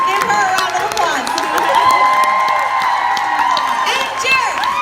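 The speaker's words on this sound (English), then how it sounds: "Give her a round of applause." A convention crowd cheers and applauds, with whoops and high excited shouts rising over continuous clapping, loud and close throughout.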